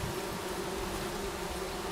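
Bees in the video game Among Trees give a steady, continuous drone of buzzing that holds evenly throughout with no talk over it.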